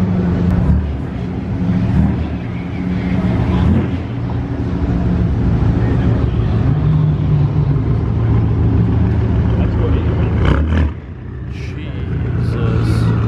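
Several cars roll into a car show with loud, rumbling aftermarket exhausts, engines droning steadily nearby while people talk over the noise.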